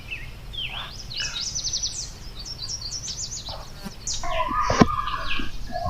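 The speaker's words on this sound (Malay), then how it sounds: "Dengar bunyi burung tu." Several birds call and chirp in a quiet outdoor spot, with quick repeated high notes and short tweets at moderate distance and a louder burst of calls near the end.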